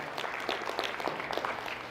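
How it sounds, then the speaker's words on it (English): Thin, scattered applause from a small luncheon audience at a county event, a brief patter of a handful of people clapping unevenly at moderate distance. "That's really a shallow clap"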